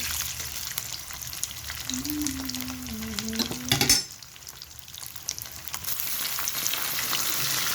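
Eggs and onion paste frying in a pan for Bengali egg bhuna, with a strong continuous sizzle and repeated spatula stirring scrapes, a brief clatter partway through, and no speech.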